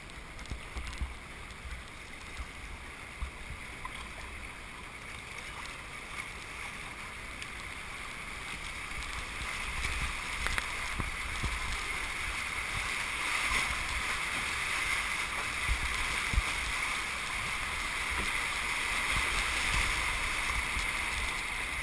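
Canoe paddled forward on the Grand River at the Elora Gorge, with steady rushing water and wind and soft paddle swishes and splashes throughout, moderately close, without clear talk.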